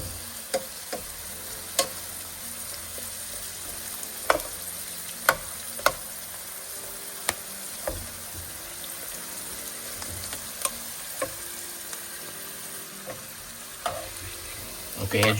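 Small vegetables sizzling in a pan for a sea bass dish with Mediterranean veggies, a continuous even frying hiss dotted with sharp ticks and pops from the oil, close by and uninterrupted.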